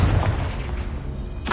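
A Confringo blasting spell explodes in the video game Hogwarts Legacy: a heavy, rumbling boom sustains through the clip, then a sharp, bright burst hits near the end, loud and close with no talking.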